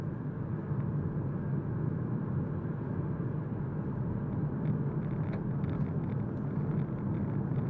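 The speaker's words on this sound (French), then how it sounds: "on entend quand même pas mal les aspérités de la route" Steady low road rumble and tyre noise inside a Hyundai Kona hybrid while driving, a constant broadband hum with faint higher rustles and no talk.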